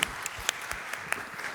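Scattered applause from the audience at a tech startup pitch competition, a handful of distinct, fairly sharp claps spaced over a second and a half against a quiet room.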